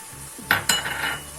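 A spoon scrapes and clinks twice against a pan while creamy curry chicken with black pepper, coriander and nutmeg is stirred, close and brief, over a quiet background without speech.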